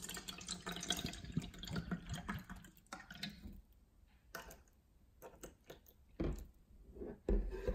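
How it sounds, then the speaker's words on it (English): Sprouts alkalized bottled water, sourced in Las Vegas, Nevada, is poured into a container for a pH and TDS test, giving a faint, continuous trickle and splash with small drips and bumps near the end. "Let's pour some in to do the TDS and pH test."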